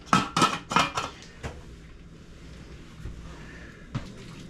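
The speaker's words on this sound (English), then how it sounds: "Cover the pan." Lid set onto a pan of homemade meat sauce cooking on the stove: a quick cluster of clattering metal knocks up front, then a soft steady background hush and one later faint clink, with no talking.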